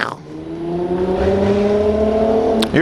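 A V6 car with aftermarket exhaust revs up close and loud, a sustained rising engine drone that holds steady for a couple of seconds before cutting off.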